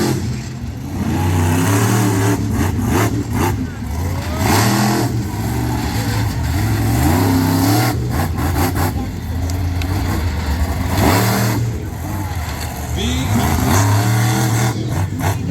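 A monster truck at the Sussex Fair roars close and loud as its engine revs and surges in waves over a steady rumbling drone, with rising and falling pitch as it drives across crushed cars.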